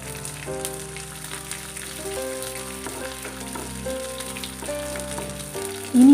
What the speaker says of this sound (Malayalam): ഒരു ടീസ്പൂൺ കടുകിട്ട് പൊട്ടിക്കാം കടുക് പൊട്ടിക്കഴിയുമ്പോൾ ഒരു ടേബിൾ സ്പൂൺ അരി കൂടിയിട്ട് വറുത്തെടുക്കാം